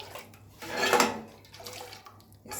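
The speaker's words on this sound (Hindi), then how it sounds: "इस तरह आपने तेज़ी से इसको फेंटना है ताकि इसका कलर जो है ना वो गहरा होता जाए।" Kashmiri kahwa tea is whisked vigorously with ice-cold water, giving close, wet splashing and sloshing swishes that swell in the middle and return briefly at the end, with no talking.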